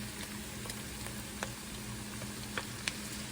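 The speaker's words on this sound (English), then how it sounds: "So now we're gonna add the saltfish to the pate." Saltfish tipped into a pan of frying onions gives a dense, steady sizzle close by, with a few faint clicks and scrapes scattered through it and nobody speaking.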